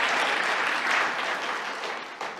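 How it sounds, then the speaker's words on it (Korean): A Sunday church congregation applauds to encourage thirty-six course graduates, a full, even wash of many hands clapping from across the room that swells and then gradually tapers off. "박수로 한번 격려해 주시면 좋겠습니다"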